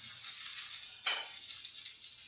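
Meatballs frying in a pan give a faint, steady hiss of sizzling fat, with one brief sharper crackle partway through and no voices.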